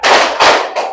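A group of people clap their hands together in unison, giving three loud, close bursts in quick succession as part of a counted clapping pattern.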